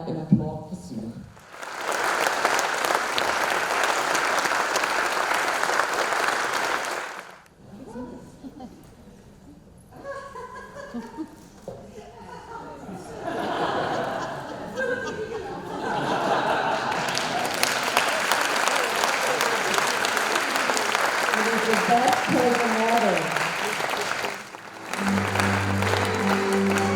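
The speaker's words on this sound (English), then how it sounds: "May I invite all of you to stand up and applaud for Sue." An audience at the APAIE 2017 conference and exhibition stands and applauds, with long bursts of dense, loud clapping broken by pauses, while a voice speaks over the hall between rounds.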